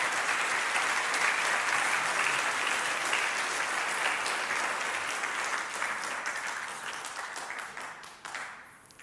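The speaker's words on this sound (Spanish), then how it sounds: "Entonces denle un fuerte aplauso a la gloria del Señor." A church congregation gives sustained, dense applause that fills the room, then gradually thins and fades toward the end.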